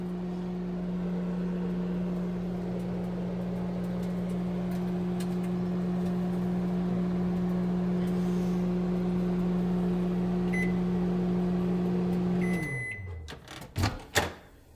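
A Panasonic NN-SD664W inverter microwave runs at full power with a steady, close hum for about twelve seconds, then shuts off. A few beeps and door clicks follow.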